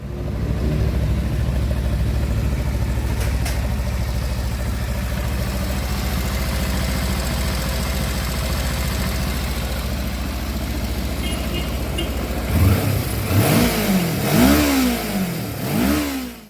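A Kawasaki Versys 300 motorcycle with a 300cc Ninja engine runs at a steady low rumble, then revs up and down several times near the end, loud and close.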